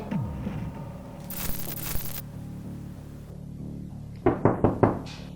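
Knocking on a door in a Turkish children's drama about a magic necklace: a quick burst of four close, sharp raps near the end, following a quieter stretch of faint room noise and scraping.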